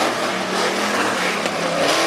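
Tough trucks racing on a dirt track at a STORM Tough Truck Racing event in Pittston, PA, engines roaring and revving in a continuous loud, broadband drone with crowd-level noise throughout.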